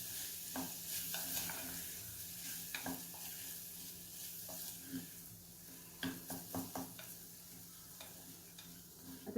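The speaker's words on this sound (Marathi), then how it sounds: "आता तुम्ही बघताय आपल्याला खवलेला नारळ आणि तांदूळ दोन्हीही छान परतले गेले" Grated coconut and rice sauté in a pan with a gentle sizzle while a spoon stirs in repeated scrapes and taps, the knocks bunching closer together toward the end.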